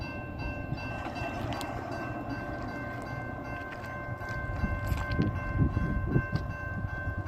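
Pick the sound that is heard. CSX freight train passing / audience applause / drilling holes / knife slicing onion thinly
CSX freight train passing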